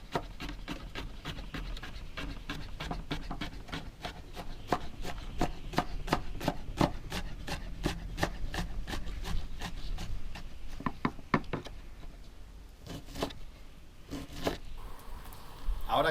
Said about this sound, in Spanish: vamos a picar las verduras